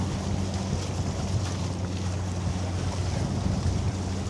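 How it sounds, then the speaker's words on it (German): Strong wind gusts across the Elbe waterfront, a steady loud roar and rumble buffeting the microphone, with a low engine hum from passing boats beneath. "Der Wind ist so stark, dass ich ziemlich gut fühlen kann,"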